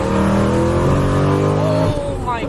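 A supercharged 700 hp Mustang GT accelerates hard, its engine roaring loud and close with a rising pitch that climbs steadily before an upshift near the end.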